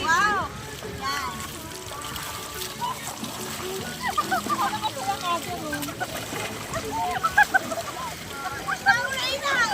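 Water splashes and sloshes continuously, close and busy, with children's voices chattering and shouting over it throughout.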